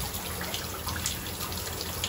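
Steady, close stream of water running from a thermostatic bath shower mixer tap, a constant hiss with no talk.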